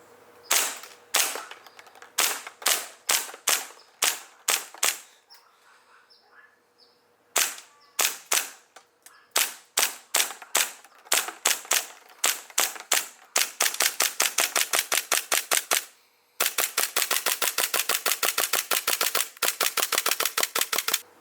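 A Hi-Capa airsoft pistol running on green gas fires a full magazine of BBs: sharp, loud pops, first in separate shots and short bursts with pauses, then a fast, even string of rapid shots, with no voices.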